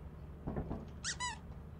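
A squeaky toy item in Lethal Company gives two quick, bright squeaks close by, the second drawn out in a falling wobble, after a brief dull rustle over a low, steady background hum.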